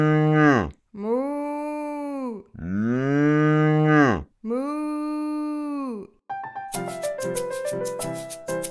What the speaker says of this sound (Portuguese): É a vaca!